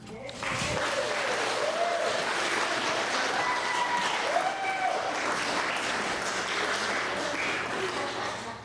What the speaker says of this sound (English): let's have a round of applause for all of the candidates out this evening